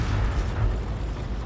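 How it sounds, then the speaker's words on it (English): Artillery shells from a tank game burst near a rock, a low continuous rumble of distant impacts blending into a muffled, steady roar without distinct sharp blasts. "we're actually landing shells over the top of the rock"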